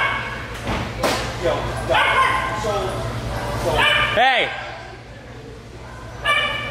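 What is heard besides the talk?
dogs barking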